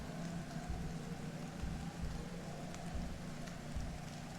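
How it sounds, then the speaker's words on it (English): Warm rain patters steadily on a grass-roofed jungle pavilion in the game I Was A Teenage Exocolonist, a soft continuous drizzle with faint scattered drops. "you take shelter under the pavilion and listen to pitter-patter the warm raindrops on the grass roof"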